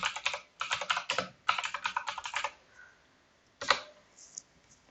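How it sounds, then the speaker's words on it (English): Someone types a git push command on a computer keyboard in three quick bursts of close, crisp key clicks, falls silent, then hits one last short cluster of keystrokes, probably the enter key. "type git push -u origin master"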